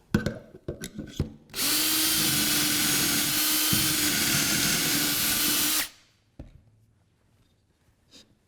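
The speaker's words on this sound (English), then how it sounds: "and once again drill" A power drill bores into a wooden table leg held in a jig, running steadily at high speed for about four seconds, loud and close, with handling clatter before and after.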